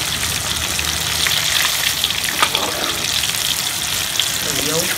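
Shrimp deep-frying in hot oil, a steady close crackling sizzle with scattered pops and bubbling running throughout.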